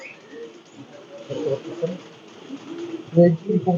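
Soft pigeon coos from a female pigeon repeat in low, rounded pulses, fairly close, with a few louder bursts toward the end over faint background noise.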